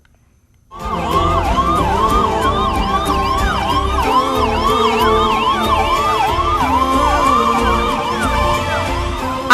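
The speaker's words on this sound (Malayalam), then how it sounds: "ലക്ഷക്കണക്കിന് ജനങ്ങൾ ഒത്തുകൂടിയ പട്ടാമ്പി നേർച്ചയ്ക്കിടയിലൂടെ ആംബുലൻസ് കടന്നുപോകുന്ന വീഡിയോ ആണ് വൈറലാകുന്നത്" An ambulance siren passes through the huge festival crowd of the Pattambi Nercha, bursting in loud and close after a near-silent start, then wailing steadily in repeated rising-falling sweeps with faint traffic beneath.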